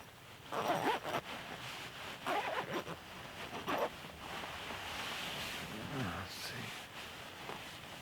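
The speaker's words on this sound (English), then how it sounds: "there's a zip pull on the inside as well as the out" Zipper on a Snugpak Special Forces sleeping bag being worked in a few quick, close rasping pulls, separated by pauses and rustling of the bag fabric.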